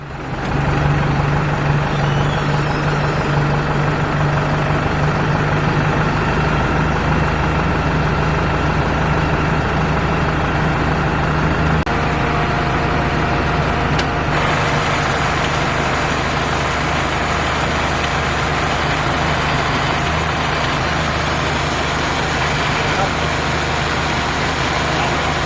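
A tractor engine idles steadily at close range on a vineyard farm, a continuous low rumble with a constant hum that holds evenly throughout without revving.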